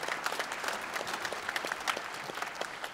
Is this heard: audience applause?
yes